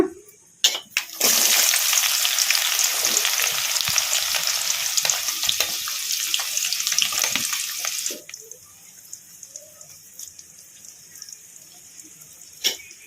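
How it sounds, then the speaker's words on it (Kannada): Onion, green chilli and curry leaves hit hot oil with lentils in a pan, bursting into a loud, steady sizzle for about seven seconds before dropping to a quieter crackle with occasional stirring clinks. "ಈಗ ಇದಕ್ಕೆ ಕಟ್ ಮಾಡಿ ಇಟ್ಕೊಂಡಿದ್ವಲ್ಲ ಉಳ್ಳಾಗಡ್ಡಿ ಹಸಿಮೆಣ್ಸಿನ್ಕಾಯಿ ಕರಿಬೇವು ಈಗ ಇವನ್ನ ಹಾಕೋಣ"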